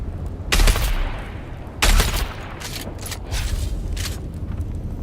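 Gunfire in the video game Dune Awakening, with two loud broadband bursts of shots near the start and middle, then a spread of lighter pops over steady background noise.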